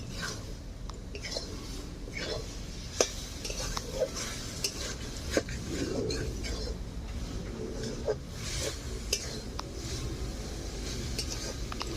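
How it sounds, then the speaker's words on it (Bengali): Red amaranth greens fry with grated coconut in a pan, a spatula stirring and scraping steadily with light metallic clinks and a gentle sizzle, close and continuous for twelve seconds. "জলটা শুকিয়ে গেছে এবার ভালোভাবে ভেজে নেব"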